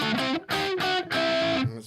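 An electric guitar played through a Klon overdrive pedal, a few sustained chords and notes with light grit, separated by short gaps, close and clear with no talk.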